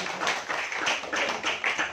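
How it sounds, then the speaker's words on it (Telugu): A church congregation at a gospel service claps loudly, producing a quick, rhythmic run of overlapping hand claps that holds steady from start to finish. "ఆ వర్షాలుగా గట్టిగా చప్పట్లు కొట్టండి."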